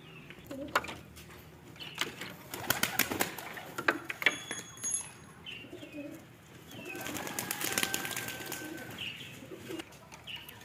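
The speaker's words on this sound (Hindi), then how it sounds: "आज सबसे पहले ना अपने कबूतरों को खोल लेता हूँ मैं" Pigeons coo softly while wings flap in bursts, a clattering flurry of takeoffs and landings close by, with no talking.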